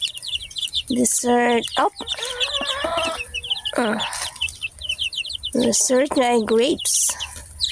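Rhode Island Red chicks cluck and peep while pecking at grapes, with bursts of calls scattered across the clip, close by, and a person talking between them.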